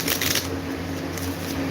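A tall deck of door cards from a card game being shuffled, a brief close rustling riffle with no voices over it.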